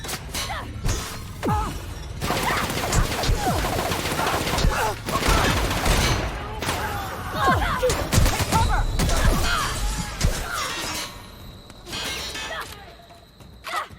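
Heavy gunfire in The Outer Worlds, with dense bursts of shots and crashing impacts running almost without pause through a loud firefight, while voices shout over the action.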